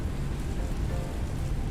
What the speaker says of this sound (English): I don't know if you guys can hear the rain just clanking off the fuselage.